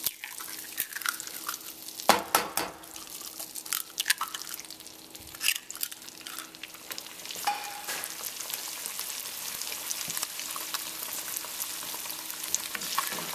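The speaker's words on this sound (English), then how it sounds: "we're going to go ahead and cook up a couple eggs. Got some butter." A couple of eggs fry in butter in a pan, a close, steady sizzle with crackling pops, a few sharp clinks and scrapes early on, and no talking.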